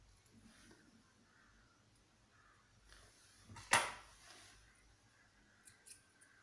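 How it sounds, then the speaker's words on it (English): Scissors trim excess crochet thread in one sharp, close snip, with a couple of faint clicks afterward against a quiet background. "Just I'm trimming the excess thread here"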